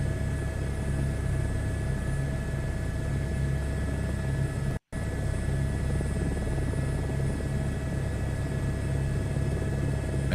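A helicopter in Microsoft Flight Simulator 2024 drones steadily with continuous rotor and turbine noise, loud and unbroken apart from one brief dropout midway, with no talking.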